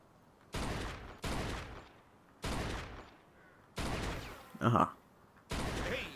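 Gunfire in Mafia 2, heard as several separate bursts of rapid shots, each about half a second to a second long with short gaps between, fairly loud and close, with a brief odd crackling sound in one burst.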